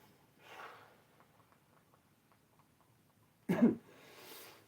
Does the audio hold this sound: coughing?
yes